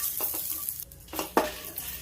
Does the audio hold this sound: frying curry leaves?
yes